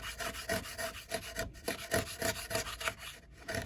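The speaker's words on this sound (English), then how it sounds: "So I'm just going to come across with the 8mm chisel." A sharp 8mm chisel pares across wood during a quick coffee table build, producing steady crisp rasping strokes in a close, repeated rhythm with brief pauses, no talking.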